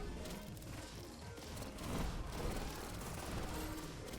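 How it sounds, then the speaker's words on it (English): Rapid gunfire from the first-person speedrun game Neon White as demons are shot on the way up and down a building, a dense, continuous volley with heavy booming impacts that swell slightly midway. "So basically, up and down the building while shooting these demons."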